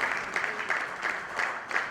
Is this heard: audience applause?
yes